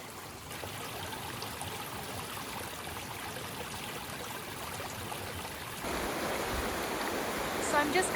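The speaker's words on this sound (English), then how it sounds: "I think this is the same water that is running from the well into this stream." Water from a well runs steadily into a small stream, a continuous close rushing trickle that grows a bit louder and brighter partway through, with no voices.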